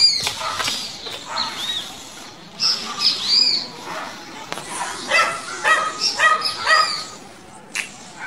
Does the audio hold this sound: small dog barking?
yes